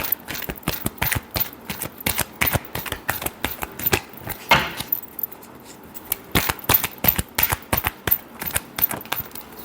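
Tarot cards are shuffled in a rapid, continuous run of crisp riffling slaps and flicks, close up, with a short pause midway before the quick rhythm resumes.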